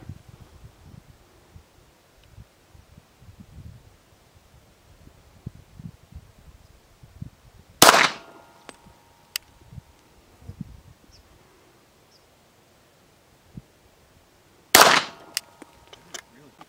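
Two sharp, loud pistol shots from an HK handgun fired at 15 yards at an outdoor range, spaced about seven seconds apart, each ringing briefly over quiet rustling and faint birds.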